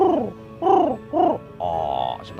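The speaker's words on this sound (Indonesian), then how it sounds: "biasanya burung akan ngorok, melakukan panggilan atau kode-kode terhadap burung lain" A zebra dove (perkutut) gives its snoring call during the mating phase, three hoarse, swelling coos in a row and then a longer buzzy note, close and clear with no talking.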